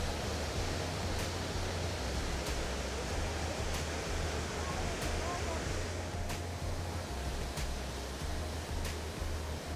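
Loud, steady rush of river water flowing through a forested canyon beneath the Lower Falls trail near Banff in the Canadian Rockies, a constant close roar with a faint low hum and a few soft ticks on top.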